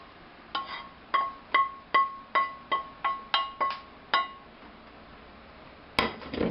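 A metal spoon taps about eleven times in an even rhythm against a pot as cooked hamburger is knocked into spaghetti sauce. The clinks are close and crisp, followed by a brief clatter.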